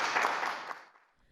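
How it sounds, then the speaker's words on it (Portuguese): Applause for two visiting delegations at a church youth event, a dense burst of clapping that fades out within about a second. "Uma salva de palmas às 2 delegações"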